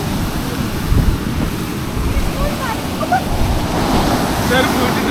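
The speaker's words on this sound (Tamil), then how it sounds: "அலை" Ocean waves surging on an East Coast Road beach near Chennai at night, a continuous close roar of surf with wind buffeting the microphone and a faint voice underneath.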